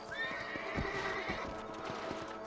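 A horse in the video game Red Dead Redemption gives a loud, clear whinny over the steady clip-clop of its hooves, heard up close with no talk.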